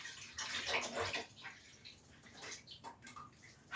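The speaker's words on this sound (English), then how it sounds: "Go ahead and fill up your pot with V8." Thick V8 vegetable juice glugs and splashes as it is poured into a cooking pot for stuffed peppers, a close, steady liquid pour with no talking.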